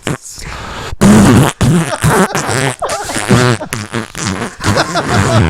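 A voice imitates a fart noise, loud and close, with a series of sputtering, buzzing blurts broken by short pauses over several seconds.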